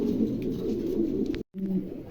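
A pair of pigeons cooing steadily at close range, with low murmuring calls continuing throughout and a brief gap near the end.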